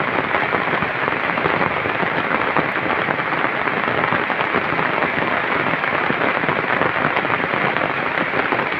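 Downpour over a village yard, a thick constant hiss of heavy rain striking surfaces, loud and unchanging from start to finish.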